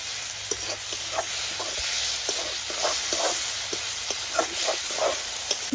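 Bright, continuous sizzling of vegetables frying in a kadai with tomato sauce, with soft irregular stirring knocks and scrapes scattered throughout, close up, no talking.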